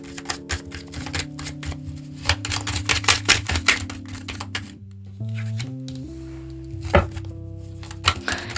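Tarot cards shuffled and drawn by hand, giving a steady run of crisp flicks and soft taps over gentle background music, with no one speaking.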